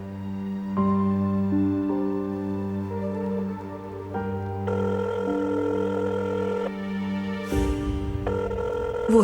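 A telephone rings on and on without being answered, its steady repeated tone carried over background music in an indoor domestic scene from a dubbed Turkish drama.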